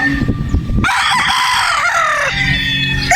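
A Boston Roundhead broodstag rooster crows loudly and close by, one long drawn-out call that breaks over low clucking and rustling in a farm pen.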